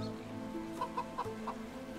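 Chickens cluck in the medieval farming game Medieval Dynasty, a few short, distinct clucks spaced about a second apart over a low steady background hum, no talking.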